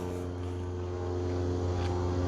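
A truck motor idles steadily on a lightweight camping rig, giving a constant, close, low humming drone with strong even harmonics and no change in pitch, with no talking.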